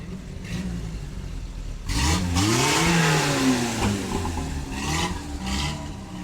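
A car passes at a classic car event in Lapalisse, engine revving up and dropping as it goes by, fairly close, with a rising and falling whine and a second vehicle approaching at the end.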